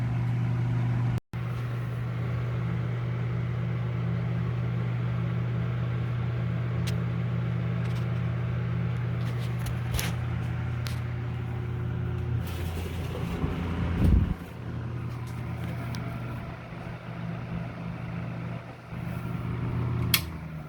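An electric window fan with oil-lubricated bearings hums steadily, a low motor drone with a faint whir. The tone shifts partway through as the fan spins down, heard up close and alone.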